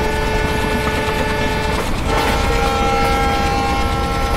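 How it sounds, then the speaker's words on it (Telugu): Fast-running train in the Train Simulator game on an Indian Central Railway route, a steady loud rumble with tonal engine hum and a brief horn-like swell near the middle, no talk. "ట్రైన్ అయితే చాలా స్పీడ్గా వెళ్తున్నాం గైస్"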